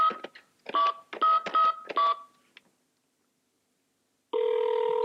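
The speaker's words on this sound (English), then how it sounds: "It's ringing" Toy mobile telephone from a 1993 toy show: a quick sequence of electronic dial tones, a short pause of silence, then a loud, steady electronic ring tone starting near the end.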